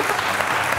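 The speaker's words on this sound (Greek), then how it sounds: "Ένα μεγάλο χειροκρότημα και για τους τρεις παίκτες" A studio audience at a Greek Wheel of Fortune game show applauds the three players, a dense, loud and steady burst of clapping heard on its own.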